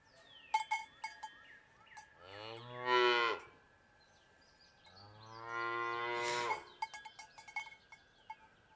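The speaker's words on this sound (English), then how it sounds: "Stop your gun, I'm hollering, mooing," A cow in a video game gives two long, deep moos separated by a pause, with a cowbell clanking intermittently before, between and after them; no one speaks.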